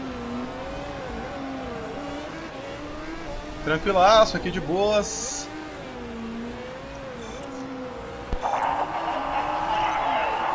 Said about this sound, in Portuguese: Eu gosto do barulho do carro.